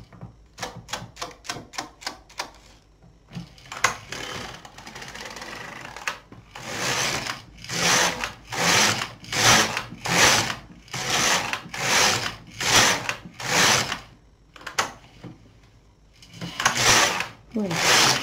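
An LK 150 knitting machine knits rows of waste yarn made from leftover wool scraps, its carriage giving a run of quick clacks followed by repeated loud, rhythmic swishing passes, close and clear.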